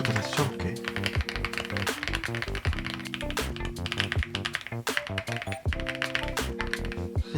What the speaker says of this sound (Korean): 황축부터 다시 쳐볼게